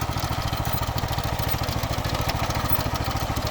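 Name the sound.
mini tractor built from a walk-behind tractor digging potatoes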